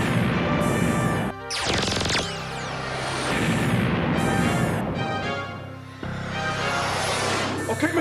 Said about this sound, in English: Lock lasers and fire!